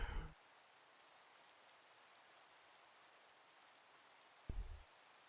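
Rain falling steadily at an abandoned farmstead, a soft even hiss of drops throughout, with brief louder bumps at the start and near the end.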